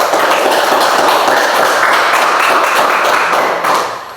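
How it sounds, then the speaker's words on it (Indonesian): Students in a Catholic religious education classroom clap their hands together, a loud, close, dense burst of overlapping claps that holds steady for about four seconds before tapering off at the end, with no talking. "Tepuk tangan dulu"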